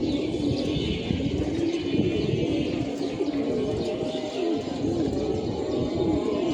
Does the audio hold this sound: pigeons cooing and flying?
yes